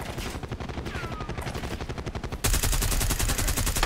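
Rapid sustained gunfire in a first-person shooter video game with an enemy sniper, dense rhythmic bursts filling the clip loudly, growing heavier and louder partway through, with no talk.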